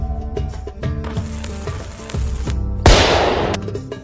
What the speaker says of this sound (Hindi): छोटू देखा अपना पटाखा कितनी तेज दगा।